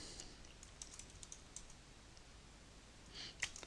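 Rapid keystrokes tapped on a computer keyboard while entering text into a slide text box, a steady run of light clicks close to the microphone with a brief louder burst near the end.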